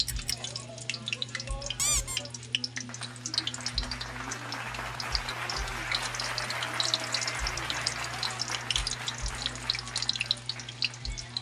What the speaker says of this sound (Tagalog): magpiprito rin tayo ng ating isda